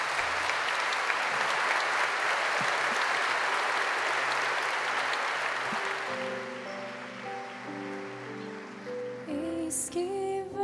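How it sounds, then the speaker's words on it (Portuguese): A church congregation applauds the Gospel at Mass, loud, dense sustained clapping for about six seconds that then thins out and fades as organ or keyboard music begins underneath. "Vamos aplaudir o Santo Evangelho."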